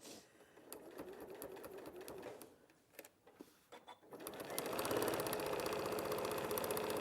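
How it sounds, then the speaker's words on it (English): A sewing machine runs a straight stitch on a rhino cushion: first scattered clicks and short whirring bursts, then a steady, close, continuous stitching hum to the end with no talk. "So I'm just using a normal straight stitch, and you can lengthen it if you want to."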